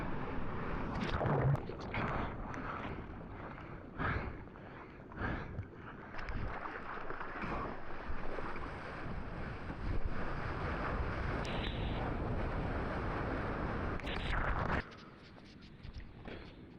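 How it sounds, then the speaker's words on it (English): Wind at sea during a morning surf session gusts and buffets the microphone in uneven bursts, with rushing water beneath, fairly loud throughout before easing near the end. "The wind is picking up a little bit, even though it's only 6:40 in the morning"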